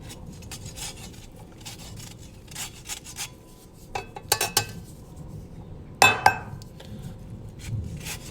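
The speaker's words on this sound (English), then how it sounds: "so we're gonna zest the lemon" A whole uncut lemon is zested on a metal zester, giving a faint rhythmic rasping that turns into sharper scraping and clinking bursts midway, heard alone and quite close.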